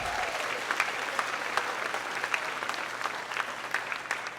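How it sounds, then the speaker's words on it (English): Children at an elementary school moving-up ceremony applaud themselves, a steady wash of many small hands clapping at moderate distance with a few sharper claps standing out, continuing throughout. "Give yourselves a round of applause"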